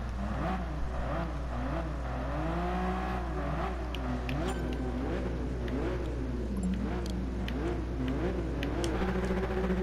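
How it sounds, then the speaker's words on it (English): A RUF CTR3 engine in GT Sport revs and rises and falls in pitch several times, a steady near mechanical drone with wavering tone and no talk. "Actually, let's give it a little rev."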